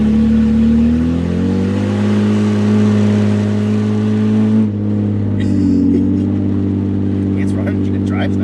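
A rebuilt, previously flooded BMW engine runs loud and close with a slightly rising drone and shifting pitch, the tone dropping mid-clip, while a person talks over the later part.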